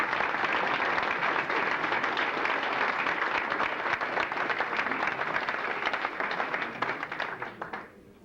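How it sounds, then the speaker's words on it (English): A big round of applause for baseball trainers at a Dodgertown Hall of Fame gathering: loud, dense clapping from a large audience that holds steady, then thins and fades out at the end. "give them a big round of applause"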